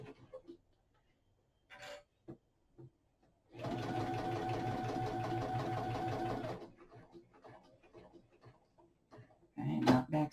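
A sewing machine runs in one steady, whirring burst of about three seconds while it stitches down the centre seam of a fabric face mask, with soft handling clicks and a little speech before and after.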